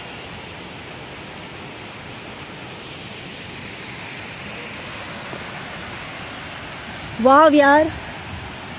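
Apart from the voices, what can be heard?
waterfall near Pune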